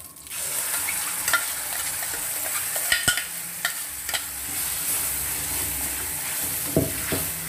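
Ground spice paste is stirred into brinjal gojju in a pan on the stove, giving a soft steady sizzle broken by scattered scraping clicks of a spoon against the pan, close by and with no talking.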